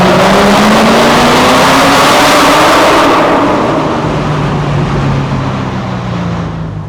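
Open-exhaust 525hp LS3 V8 in an ND Miata revs loudly and up close on a town street, a sustained roaring drone whose pitch climbs and then eases off as the engine settles, with no voices over it.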